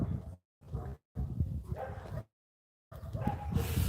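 Several dogs set off by unexpected visitors bark, yip and whimper in choppy bursts separated by brief silences, close by and loud.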